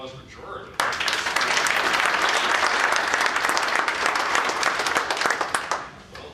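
After a brief spoken lead-in, an audience bursts into a loud, sustained round of applause at a community meeting, the clapping dense and steady before tapering off at the end.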